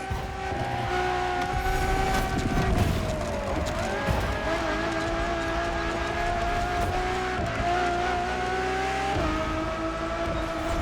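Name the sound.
Ferrari Enzo supercar driving in video game The Crew Motorfest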